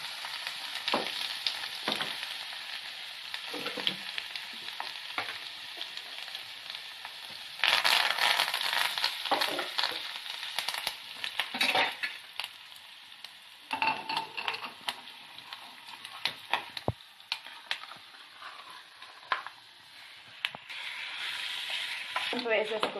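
A tempering for brinjal pickle fries in hot oil, giving a continuous crackling sizzle broken by stirring scrapes and bursts of spattering, with no speech.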